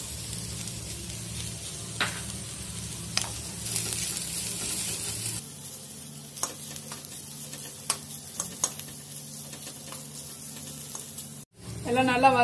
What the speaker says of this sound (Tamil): இதில் நம்ம பூண்டையும் அதோட சேர்த்தே வறுத்துக்கலாம்.